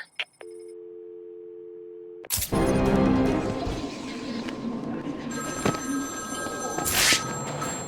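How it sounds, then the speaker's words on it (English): A telephone rings in a Gotham street in Batman Arkham City, the repeating electronic tone heard first alone, then half-buried under loud crashing, rumbling game noise and a burst of talk. "There's a phone ringing somewhere."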